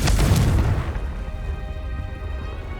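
A Confringo fire spell in Hogwarts Legacy hits with a loud, deep booming blast that quickly fades into a crackling, rumbling tail with a faint lingering tone.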